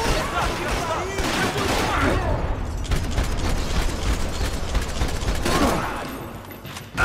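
A grenade blast in Max Payne 3 booms amid sustained, dense gunfire that rolls on for several seconds. The shooting is loud and close, with heavy low rumble throughout and a brief lull near the end.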